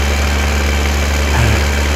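Tractor engine from the farming game Farming Simulator 2015, a loud, steady idling drone with a deep low rumble and constant vibration, heard close up with no talk over it.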